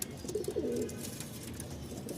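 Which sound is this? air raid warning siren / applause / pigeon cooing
pigeon cooing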